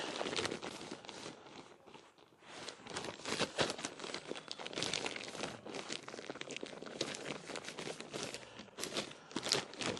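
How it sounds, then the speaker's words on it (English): Close, busy crinkling and crunching as hands rake through loose, dry compost in irregular bursts, with no talking. "I'm going to put my hands in, rough it up a bit."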